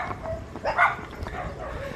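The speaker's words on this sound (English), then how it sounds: "Oh my God, dogs!" Dogs barking in a neighborhood street in Alaminos City, Pangasinan, Philippines: a short bark or yelp rises midway over a busy, murmuring outdoor background, moderately close.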